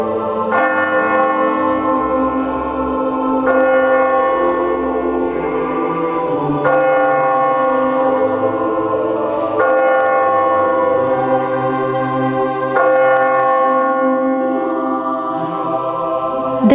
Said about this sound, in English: clock and bells of St. Pancras form part of the local soundscape on the Euston Road